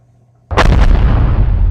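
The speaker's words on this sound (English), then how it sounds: "So two cannon shots." A loud cannon-fire sound effect from a tabletop pirate ship battle game: a sudden booming blast with a quick second report, then a long rumbling decay, heard alone.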